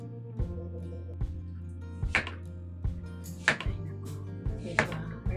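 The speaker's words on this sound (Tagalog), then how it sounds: "Tanggalan natin ng buto tapos hiwain" A knife cuts through a deseeded melon in a home kitchen, giving about eight separate crisp chops at an irregular, unhurried pace, close and fairly quiet with no talking.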